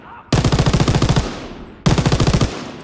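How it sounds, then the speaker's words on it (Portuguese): Machine gun fire in the World War II shooter Call of Duty: World at War: two loud, close bursts of rapid automatic shots, the first about a second long and the second shorter, each trailing off into echo. "Abrir fogo! Alguém na metralhadora!"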